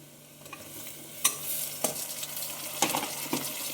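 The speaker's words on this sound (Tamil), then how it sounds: "தக்காளியை போட்டு நல்லா வதக்கணும்" Tomatoes fry with garlic and ginger for chicken biryani while a spoon stirs the pan, giving a soft steady sizzle broken by several sharp scrapes and clinks of utensil against metal.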